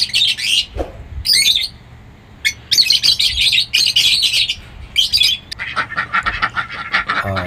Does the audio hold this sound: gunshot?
no